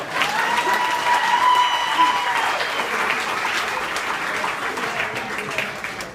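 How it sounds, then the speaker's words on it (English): A wedding crowd applauds in a steady burst of clapping lasting several seconds, with a faint voice or tone audible early on. "I think that's worth a round of applause"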